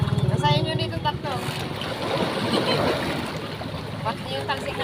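Waves splash against a boat on a ride off Batangas, a steady wash of water and hull noise with a motor rumble underneath, while people talk over it.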